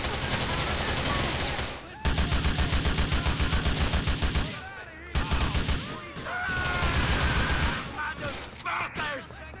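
Dense, rapid gunfire in Grand Theft Auto IV, with loud bursts filling most of the stretch. The shots break off in short gaps and return as sustained volleys, and voices come through between the bursts.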